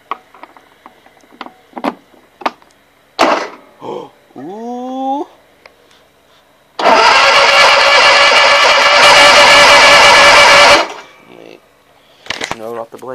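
A John Deere engine that has not run all winter turns over and roars loudly for about four seconds after some clicks and fiddling. People talk nearby before and after it runs.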